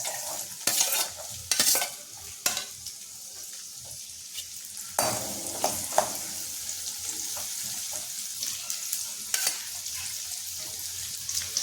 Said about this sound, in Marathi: तेल गरम झालेलं आहे. आता आपण यामध्ये कांदा टाकायचा आहे.